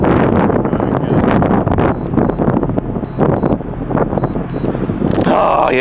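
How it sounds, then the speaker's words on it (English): Hurricane Idalia's strong wind buffets the microphone in loud, roaring gusts that pulse and surge continuously, with a brief rustling clatter near the end. "it's because of the wind"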